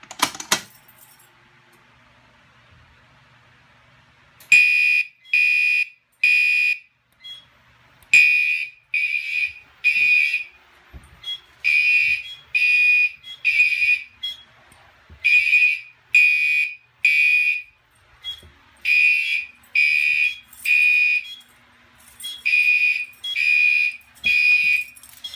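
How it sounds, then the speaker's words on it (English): A building fire alarm system sounds during a test, loud electronic tones pulsing in rapid, regular bursts separated by short gaps and repeating steadily for over twenty seconds, with no talk. "I will now pull the fire alarm."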